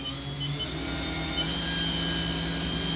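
A machine spindle turning at 5,000 RPM gives a steady whirring drone with high tonal whine, continuous and moderately loud over three seconds, no voices.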